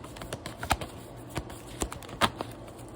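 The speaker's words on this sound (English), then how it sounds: "I've got a different deck of cards. If you can hear that, I'm just shuffling them." Soft, irregular papery flicks and taps, faint and close, like cards being riffled and shuffled in quiet.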